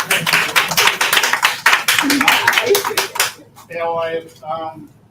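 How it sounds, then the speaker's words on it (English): An audience claps for Matt Higgins at the soft launch of a trauma recovery center, a dense burst of close, sharp hand claps for about three seconds, then cutting off as a voice begins speaking. "Clap it up for Matt Higgins"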